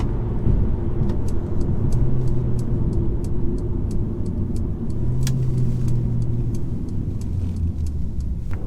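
A Mercedes CLA180 accelerating hard in manual gears with traction control off, a steady engine drone rising under load inside the cabin with faint ticks and rattles over the top.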